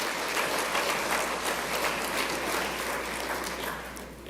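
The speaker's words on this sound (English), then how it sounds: "Let's give them all a round of applause, please." Audience applause at a national honours and investiture ceremony, a sustained dense patter of many hands clapping from a large hall crowd, easing slightly toward the end.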